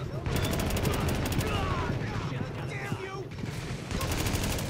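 MP5 burst fire crackles through a shootout in The Division, with repeated rapid bursts of gunfire, some close and sharp, others in the background, under raised voices of several players talking.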